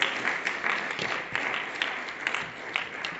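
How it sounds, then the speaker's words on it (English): A study group audience gives a round of applause at the close of a gathering, with moderate, steady clapping from a modest crowd and a few sharper individual claps standing out. "Can we give another round of applause?"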